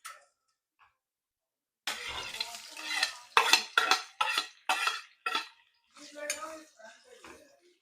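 Onions frying in a pan, with a burst of sizzling followed by several short scraping stirs of a spoon against metal, close and separated by brief pauses.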